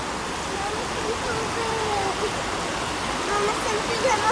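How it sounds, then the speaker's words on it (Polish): A river rushes beside a campsite in Karpacz, producing a steady, broad hiss of flowing water close by, with a voice faintly present over it. "Budzisz się bądź zasypiasz i słyszysz szum rzeki."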